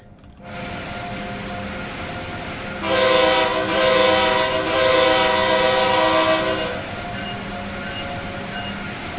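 An Amtrak Acela train runs in Train Sim World 3, a steady rolling rumble joined by a loud sustained horn blast lasting several seconds before the engine noise continues alone.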